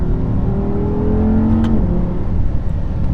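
Audi R8 V10 Plus with a 550-horsepower naturally aspirated engine revving hard while accelerating, a loud rising drone heard from inside the car, with a brief tick partway through.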